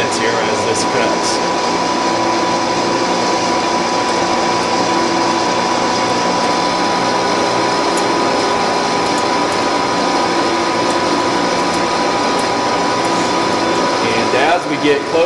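A metal lathe turns a length of stock down to diameter with a continuous, loud steady whine and hum, unbroken and close, with a voice speaking over it.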